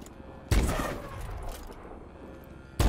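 Gunfire in the video game Call of Duty Advanced Warfare, single-player bio lab mission: a loud, sharp burst opens the stretch and rings into a rumbling tail, with another hard shot cutting in at the end.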